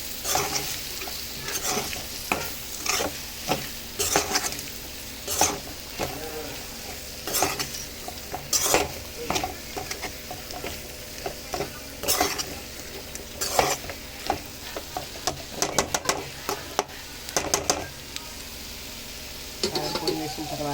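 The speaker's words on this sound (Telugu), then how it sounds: "వేసి కలుపుతున్నాను." Chili powder being stirred into a sizzling frying mixture in a pan, with repeated sharp scrapes and clinks of a utensil against the pan over a steady fry, close and clear, with a voice talking at times.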